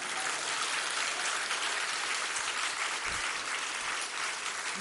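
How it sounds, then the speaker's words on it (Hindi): Dense, continuous applause from a large crowd at a national convention gathering, loud and steady throughout without pause. "ताली बजानो तो अच्छे ढंग से तो बढ़ाओ।"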